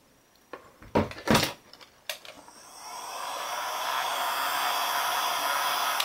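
A heat gun blows steadily on the cracked digitizer screen of an AT&T Huawei Fusion U8652 phone, its broad airy hiss rising and holding close after a few sharp handling clicks and taps.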